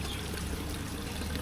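Liquid pours steadily into a jug in Fiji, a continuous close trickling stream without pauses and no talk over it.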